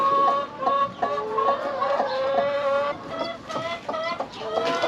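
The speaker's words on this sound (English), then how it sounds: "Here you go, snacks for the chickens." Chickens on a farm clucking and squawking repeatedly while being fed scraps, a busy close-up chorus of overlapping calls with brief rustling in between.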